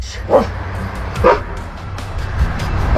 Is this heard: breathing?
no